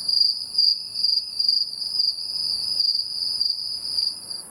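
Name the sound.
crickets chirping, played as a joke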